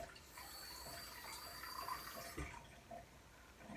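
Hot water runs steadily from a kitchen tap for bread dough, a continuous faint splashing rush with no break.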